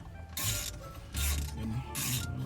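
Custom steering wheel screws tightened by hand on a car, giving three bursts of close metallic ratcheting and rubbing with short pauses between them.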